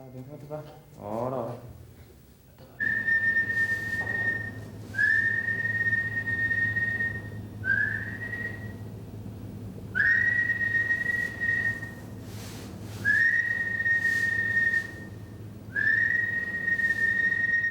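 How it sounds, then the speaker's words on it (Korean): Part-time racetrack workers whistle softly to a winning racehorse to coax it into giving a urine sample for a doping test: six drawn-out, steady-pitched whistles separated by short pauses, over a low background rumble. "일당 5만 원 아르바이트생들의 은근한 휘파람 소리에"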